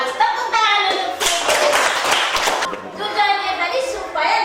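Fourth-grade schoolchildren in a classroom clap their hands in a brief, dense burst in the middle. Children's and adult voices talk before and after the clapping.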